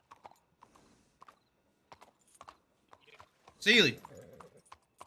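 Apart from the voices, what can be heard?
horse hooves clip-clop in a western roleplay video game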